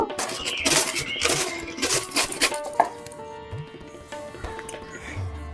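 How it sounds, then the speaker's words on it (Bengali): Cabbage grated on a hand grater: a run of rough scraping strokes, loud and close over the first few seconds, then fading into softer scattered scrapes and light clicks. "এবার একটা গ্রেটার দিয়ে বাঁধাকপিটাকে গ্রেট করে নেব।"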